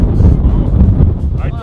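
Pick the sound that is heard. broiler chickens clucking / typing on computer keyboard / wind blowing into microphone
wind blowing into microphone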